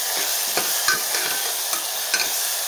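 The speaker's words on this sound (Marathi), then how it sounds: "आणि आता आपल्याला छान परतून घ्यायचं आहे" Potato bhaji with salt and turmeric is sautéed in a pan with steady frying sizzle and repeated close stirring scrapes at an even rhythm, with no talking.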